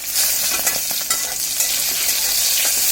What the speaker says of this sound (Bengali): এটাকে এখন একটু নাড়াচাড়া করে দেব।